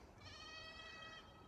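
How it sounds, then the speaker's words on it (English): A goat on a mountainside farm gives a single clear, wavering bleat of about a second, mid-distance, over quiet outdoor background. "you can hear the goats in the background"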